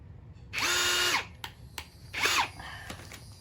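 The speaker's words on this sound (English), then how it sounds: "Why on earth does the drill bit lock up every single time you go to drill?" A Ryobi power drill whirs in two short bursts, the first about half a second long with a pitch that rises and falls, the second briefer. The bit locks up each time, and small clicks and knocks sit between the bursts.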